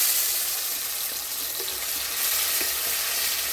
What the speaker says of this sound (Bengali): এবার আমি দিয়ে দিচ্ছি কুচিয়ে রাখা টমেটোটা।